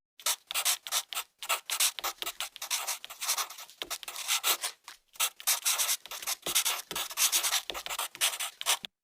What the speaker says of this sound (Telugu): ఇప్పుడు లైట్ బ్రౌన్ కలర్తో ఫోర్హెడ్ ఎడ్జెస్ షేడ్ చేయాలి.